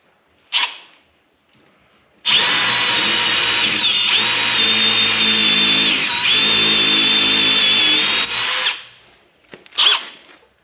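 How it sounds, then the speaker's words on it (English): Power drill boring a pilot hole in a wooden shed door, one steady loud whirring run of about six seconds, bracketed by brief clicks and handling noises before and after. "Then I'll drill a pilot hole again."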